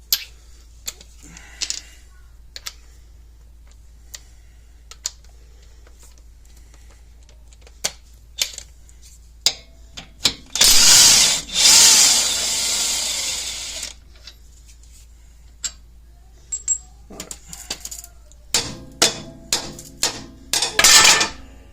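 An impact gun spins a 16 mm nut off a front axle in a loud three-second burst, with sharp metallic clanks and taps from tools and parts before and after.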